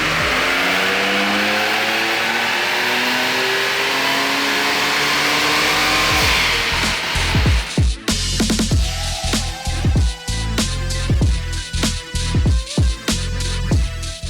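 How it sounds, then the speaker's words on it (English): A V6 car engine on a dyno roars loud and close, rising through the revs with harmonic whine for several seconds, then drops into rapid, choppy bursts and crackling pops as the throttle snaps on and off. "You know you love a great sounding V6."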